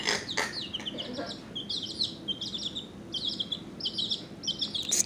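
Pet bird chirping in a home, a run of quick bright repeated chirps in short bursts, fairly close, over a low background hum with a couple of sharper calls at the start.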